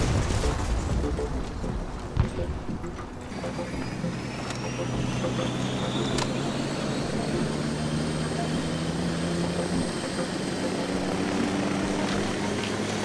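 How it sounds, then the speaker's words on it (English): A military helicopter in the ARMA 3 S.O.G. Prairie Fire video game roars with a steady, loud rotor and engine drone throughout, with a faint high whine sweeping upward partway through. "I guess I'm getting in the helicopter with John Doe"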